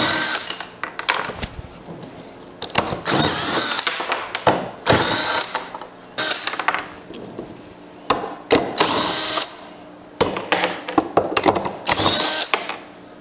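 A power drill with a chuck bit spins bolts off a shop dolly under construction, running in repeated loud bursts of a few seconds each, separated by short pauses with ratcheting clicks and tool handling.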